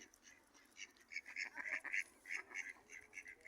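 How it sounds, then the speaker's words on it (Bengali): Lesser whistling ducks calling, a run of faint, high, clipped whistling notes in quick irregular bursts from some distance over a quiet background. "এ হলো বালি হাঁস।"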